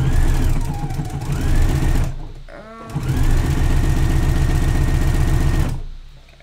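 A sewing machine stitches slippery spandex swimsuit fabric in two steady running bursts, loud and close, its motor whirring with a rapid needle chatter and a brief pause between runs, with no talking.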